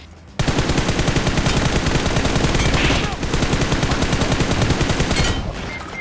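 Rapid automatic gunfire in the mobile battle royale game PUBG Mobile, a loud, close, continuous burst of shots lasting about five seconds, with a brief dip partway through, then cutting off.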